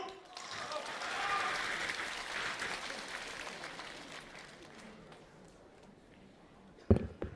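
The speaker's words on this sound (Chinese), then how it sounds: "谢谢您的掌声鼓励" Theatre audience applauding comedians at a Deyunshe crosstalk show in Tianjin, a broad wash of clapping that swells early then slowly fades, with a sharper burst of claps near the end.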